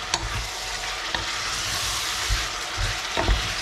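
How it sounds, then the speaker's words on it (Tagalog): Pork belly with tiny salted shrimp (alamang) is stirred in a hot pan, giving a steady, close sizzle broken by scraping and clattering from the utensil, with no talking. "Halu-haluin lang natin."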